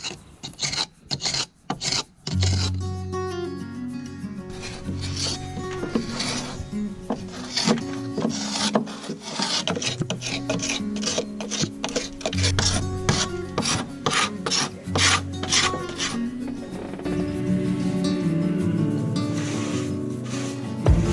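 Fixtures are being removed from a wooden wall with a screwdriver or drill, producing repeated grinding, rasping and rubbing of metal on wood, loud and close, in bursts with brief pauses.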